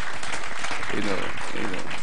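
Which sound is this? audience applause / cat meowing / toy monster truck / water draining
audience applause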